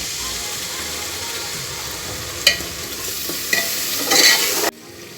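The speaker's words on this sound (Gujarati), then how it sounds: "હવે આપણે આ બધું પહેલા મિક્સ કરી લઈશું સરસથી" Steady scraping and stirring of spice masala for khichdi in a pot with a soft sizzle underneath, a few sharper metallic clinks near the end before it cuts off.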